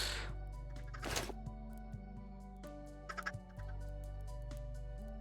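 Chickens in the Minecraft video game give a few short clucks over a steady low hum, along with some clicks and brief bursts of noise.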